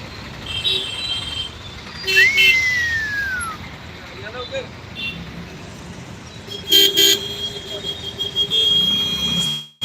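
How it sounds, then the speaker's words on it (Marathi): Busy road traffic near the Gultekdi flower market in Pune rumbles nearby with several car horns honking in short bursts and a brief squealing tone, while a voice speaks intermittently. "ट्रॅफिक मस्त ट्रॅफिक"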